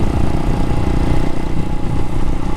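Can-Am Spyder three-wheeled motorcycle engine while riding, a loud, close, steady rumbling drone with wind noise.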